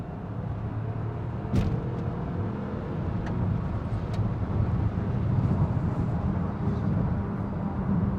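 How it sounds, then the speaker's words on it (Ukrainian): Interior sound of a Lynk & Co 01 plug-in hybrid car driving in Power mode with its engine engaged, a steady low rumble and road noise under faint cabin clicks, fairly quiet throughout. "Зараз ми увімкнемо режим е, Power, підключиться мотор все, мотор запустився."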